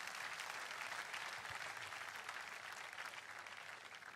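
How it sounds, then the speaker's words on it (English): A church congregation at a Sunday service claps steadily and densely for several seconds, a broad sustained wash of applause with no voices over it. "Let's clap for Jesus one more time."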